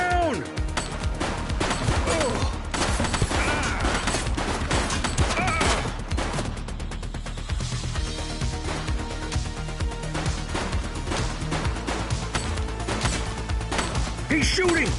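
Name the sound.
gunfire in the video game The Precinct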